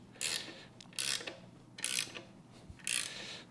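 Ratchet clicking in four short bursts while tightening a 19 mm bolt on the alternator bracket of a 1964 Triumph TR4 engine, close and fairly quiet, with brief pauses between strokes.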